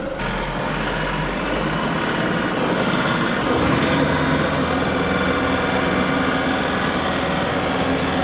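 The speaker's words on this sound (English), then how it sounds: "go ahead and turn your PTO on. All right. And rev it up to your PTO speed." A John Deere 3038E compact tractor with its PTO engaged revs up to PTO speed: a low idle rumble quickly rises into a loud, steady engine drone that holds nearby.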